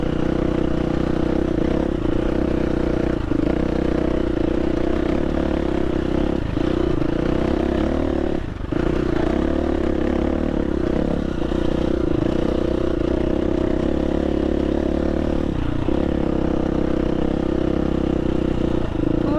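A 2022 KTM 350 dirt bike rides up a hill with a continuous loud engine drone. Brief dips in the sound mark gear shifts, and a steady rumble and rattle run underneath. No one speaks.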